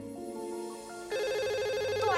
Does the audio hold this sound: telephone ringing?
yes